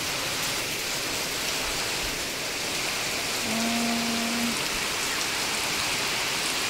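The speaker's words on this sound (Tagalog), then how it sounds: "Aga ng ulan, friendship." Constant heavy rainfall pouring down, an even wash of hiss from start to end, with a brief faint tone in the middle.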